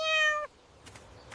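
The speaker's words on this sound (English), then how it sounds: "Meow? Meow." A cat gives a single clear, tonal meow lasting under half a second, followed by quiet with a couple of faint soft rustles.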